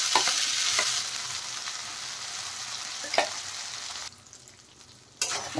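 Mashed green peas frying in hot oil with a pinch of asafoetida, a close, bright sizzle with stirring knocks that drops sharply for a moment and then flares up again.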